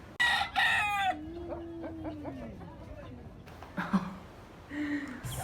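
A rooster at the Mercado Modelo animal market in Chiclayo, Peru, crowing a long drawn-out call amid clucking chickens and other fowl, fairly close, with bursts of market noise.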